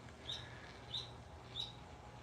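A bird mimics a car alarm with three evenly spaced, high, faint chirping calls over a low background hum, with no talk.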